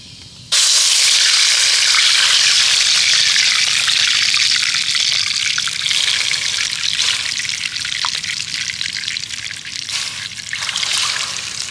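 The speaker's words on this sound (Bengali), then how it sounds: "এবার ওর মধ্যে আমি দিয়ে দেব জল" Water gushes steadily into a pan of hot oil with whole cumin seeds, a loud continuous sizzling pour that starts abruptly and runs on with slight surges, with no talking.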